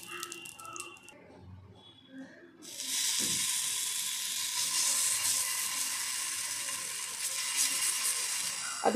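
Oil sizzles and hisses steadily in a hot appe pan (appam patra) on a gas stove, a loud continuous fizz starting after a few seconds of quieter handling noises.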